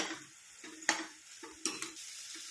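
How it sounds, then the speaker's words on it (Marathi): Pumpkin cooking in a pan with crushed peanuts added, light sizzling broken by several scraping stirs of a spatula against the pan, close and fairly quiet. "आपण याच्यामध्ये आता ना शेंगदाण्याचा कूट टाकून घेऊया आणि याला अजून 1 मिनिटभर होऊन देऊया"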